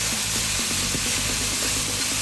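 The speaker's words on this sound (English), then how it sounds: "give this a little bit of frying, not too much." Fish frying in a very hot pot for Jamaican brown stew fish, giving a steady, loud sizzle with a rapid crackling rhythm throughout and no talking.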